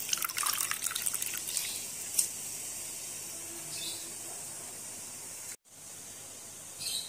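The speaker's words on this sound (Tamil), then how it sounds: "இப்போ அதில் புளியை கரைச்சதை ஊற்றிக்கிறோம்" Tamarind water pours and trickles steadily into a cooking pot for rasam, a soft watery splashing that continues for several seconds with a brief break near the end.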